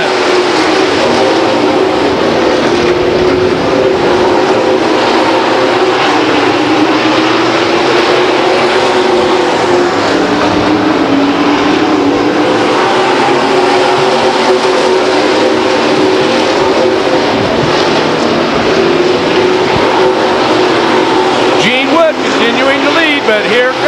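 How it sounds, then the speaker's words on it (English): Spec trucks in a main event at Stockton 99 Speedway, a paved oval, in 1999, roar past in a dense, continuous pack drone that swells and shifts throughout, running under a race announcer's steady commentary. "And right behind, Harold and Murphy, your top 7, running nose to tail in the Ultra Wheel Spec Truck main event"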